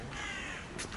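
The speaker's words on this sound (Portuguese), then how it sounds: "Ah, os corvos." Crows cawing outdoors in a Paris setting, a harsh call standing out over steady background noise, with a sharper burst of cawing near the end of the short stretch.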